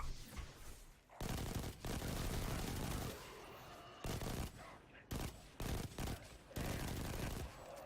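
Loud bursts of sustained automatic gunfire in Destiny 2 played as a Hunter, coming in dense volleys broken by short gaps, with a long roaring stretch in the middle and choppier repeated bursts toward the end.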